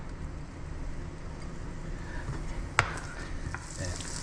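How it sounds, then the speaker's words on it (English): Green onions and pearl onions sauté lightly in a pan with a steady, soft sizzle, broken by one brief clink of a utensil partway through. "So we're just looking to lightly saute these here."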